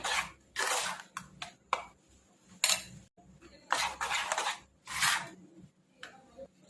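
A metal spoon stirs and scrapes poha dhokla mixture with oil in a dish, giving a series of short, close clinking and scraping bursts separated by brief pauses.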